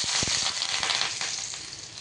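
Very hot oil sizzling in a pan for a simple spinach dish, close and steady with sharp crackling pops near the start, then easing slightly.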